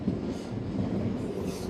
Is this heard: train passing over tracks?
yes